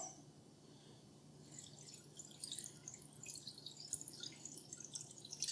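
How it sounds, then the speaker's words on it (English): Water poured into the reservoir of a Mars Hydro hydroponic indoor herb garden kit, a soft trickling and dripping that grows louder and splashier partway through, close by with no talking. "So I'm going to put some water."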